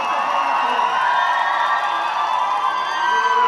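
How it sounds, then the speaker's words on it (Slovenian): A large crowd at a welcome celebration for ski jumpers in Ljubljana cheers and whoops loudly, a sustained dense roar with shrill voices and clapping mixed in, holding steady throughout. "Še enkrat en velik aplavz za zlatega in malce tudi bronastega Roberta Kranjca"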